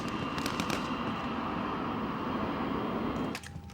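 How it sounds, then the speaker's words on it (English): Rapid sharp cracks of gunfire pop in quick bursts over a dense, roaring background during a gunfight with GIGN commandos at a hijacked airliner, with a few more distinct shots near the end. "A GIGN man is blasted out of the plane by gunshots."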